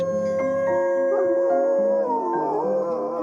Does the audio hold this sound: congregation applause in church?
no